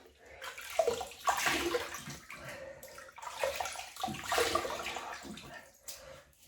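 Hot water splashes as a face is wetted before a shave, two long surging bursts of sloshing and trickling water at close range, with no talking.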